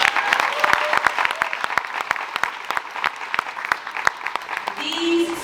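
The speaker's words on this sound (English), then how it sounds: "That deserves an applause." Audience applause at a high school graduation ceremony, a fairly sparse crowd clapping with distinct sharp claps for about five seconds before it tapers and a voice begins.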